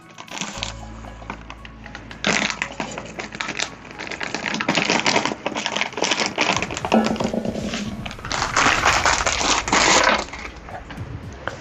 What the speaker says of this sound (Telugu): ఈ గాజు సీసాలకి ఇప్పుడు ఈ ఉప్పును అయితే వేస్తున్నాము.